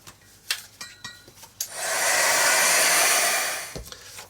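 A hair dryer blows across a freshly painted art journal page, a steady loud airy whoosh of about two seconds after a few light clinks of tidying up.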